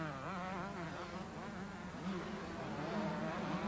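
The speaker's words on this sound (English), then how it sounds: "And it's Cooper with the throttle wide open." A 125cc junior motocross motorcycle engine screams at wide open throttle on a rough track, a buzzing, wavering high-revving whine heard from a distance, steady and unbroken for several seconds.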